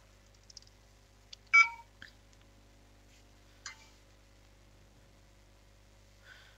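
A smartphone sounding a string of short notification chimes and beeps indoors, a few faint scattered blips followed by one louder tone burst and another later, over quiet low hum with no talking.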